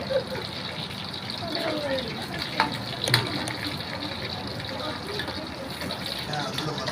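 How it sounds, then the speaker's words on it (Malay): Fish frying in a pan and turned with a spoon: a steady, close sizzle and hiss throughout, with a few light clinks. "Ini kakak goreng ikan guna sendok."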